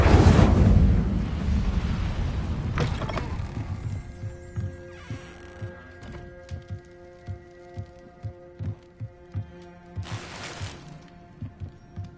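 A burst of flame from the Incendio fire spell in Hogwarts Legacy erupts loudly at the start and fades out. Rhythmic thumping footsteps and a softer whoosh follow later, with no talking.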